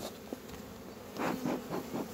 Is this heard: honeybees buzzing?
yes